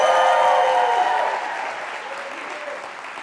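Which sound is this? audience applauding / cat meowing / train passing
audience applauding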